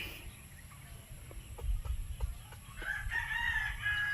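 A rooster crows in the open, its drawn-out call rising over low background noise after a few soft clicks and rustles.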